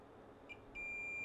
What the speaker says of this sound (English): my meter in diode mode will beep like if it's continuity